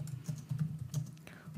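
Computer keyboard typing, a short burst of quick keystrokes in an uneven rhythm, close and fairly soft over a low steady hum, with no voice.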